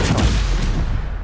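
A Stupefy spell cast in the Hogwarts Legacy video game, a short loud magical blast with a booming burst at the start and a trailing rumble, heard alone.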